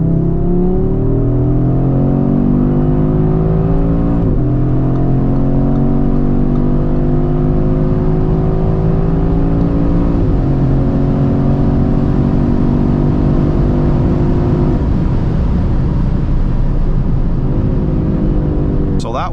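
Audi RS3-R with 510 hp accelerating hard from 100 to 200 km/h on a slight uphill road: a loud, sustained engine note rising steadily through the gears, with brief dips at each upshift, heard from inside the car.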